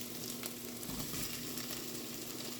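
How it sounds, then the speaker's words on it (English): Chorizo frying in a pan gives a steady, close, continuous sizzle and crackle, with no talking. "I'm going to add my chorizo because I like the flavors to build"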